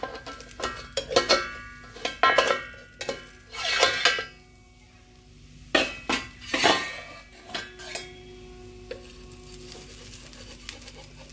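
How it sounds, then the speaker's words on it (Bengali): Cooking pan lid lifted off while making rice-and-lentil chakli pitha, with a few sharp metallic clanks and scrapes of cookware, close and clear, then a quieter stretch of faint sizzling. "ঢাকনাটাকে খুলে দেখবো হয়েছে কিনা।"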